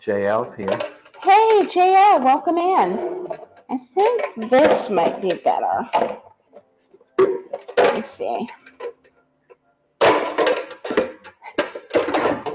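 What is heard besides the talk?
pans clattering while taken out of a cupboard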